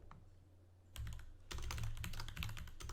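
Fingers type on a computer keyboard close by in a quiet room, a brief pause giving way to a rapid, irregular run of crisp key clicks.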